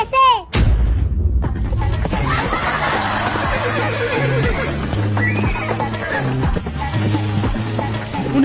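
A cartoon horse gives a sharp whinny, then galloping hoofbeats clatter on amid a busy background score, steady and fairly loud.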